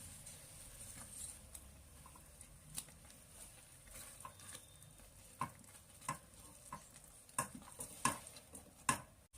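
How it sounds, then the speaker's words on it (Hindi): Apple halwa being stirred in a pan over low to medium flame, with a soft steady sizzle and intermittent scraping clicks of the spoon against the pan, growing sharper toward the end. "और फिर हम इसे अच्छे से चलाते हुए पकाएंगे"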